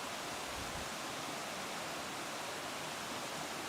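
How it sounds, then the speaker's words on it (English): A stream and waterfall in the Ozark National Scenic Riverways produce a steady, even rush of water with no breaks or voices. "Oh, the bugs and the water and the trees and the breeze."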